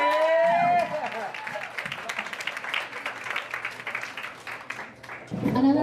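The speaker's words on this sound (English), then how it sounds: "Another round of applause for Zach." An audience at an evening show applauding, dense clapping and some cheers lasting several seconds before a voice speaks at the end.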